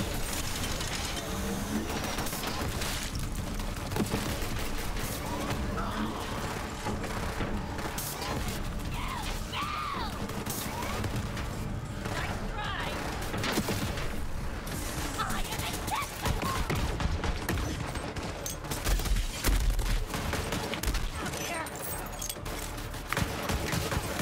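Dense, continuous gunfire and chaotic combat noise from the video game Borderlands 3, with a loud, busy mix of rapid shots, impacts and mechanical clatter, and players talking over it.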